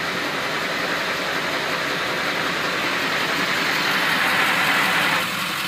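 A 2000 Ford F250 with the clutch released makes a steady, rough grinding whir from its transmission, loud and constant, swelling slightly before easing off at the end.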